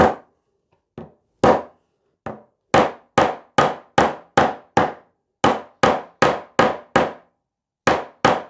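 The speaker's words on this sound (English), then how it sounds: "only takes a few knocks and then that is perfectly seated" A part is tapped down into a Rickenbacker 620/12 twelve-string guitar to seat it, giving about fifteen sharp close knocks, first spaced out, then in a quick steady run, with no voices.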